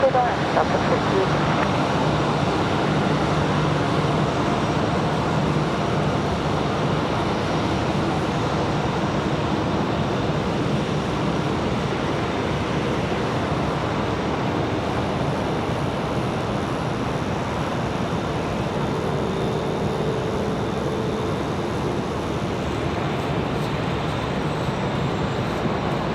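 Airliner landing at Raleigh-Durham International Airport, a continuous broad roar of jet noise heard from outdoors, steady and loud throughout.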